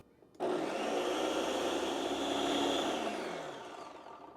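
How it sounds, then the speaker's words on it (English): A countertop blender starts abruptly and whirs loudly and steadily for several seconds, processing a garlic, mustard and lemon burger sauce, then slowly winds down. No voices are heard. "Now I'm going to turn on the blender,"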